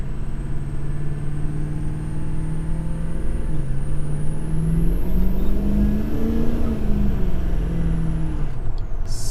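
A Ford 6.0 Powerstroke diesel pickup on its first drive after a build, its engine drone rising and falling steadily through gentle acceleration, with a high whine sweeping upward near the end and no talking.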